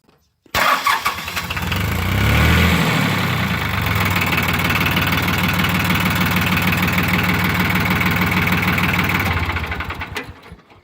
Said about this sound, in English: I got it to start and I did not buy a new starter.